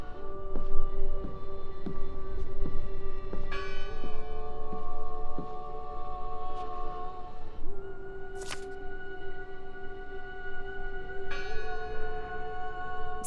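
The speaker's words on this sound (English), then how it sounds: "Listen! The bell!" In the video game Draugen, a church bell rings repeatedly with long, resonant strikes and lingering hum, set against quiet outdoor ambience.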